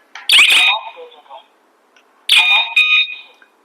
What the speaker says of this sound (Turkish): RFID takımımız kumandayla aynı işlemi yapar. Alarmı devreye sokup devreden çıkartır.